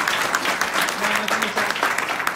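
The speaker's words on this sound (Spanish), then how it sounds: "un aplauso para ellos" Audience applause at a Spanish-language mentoring event for Team Houston, dense steady clapping filling the room throughout with some voices mixed in.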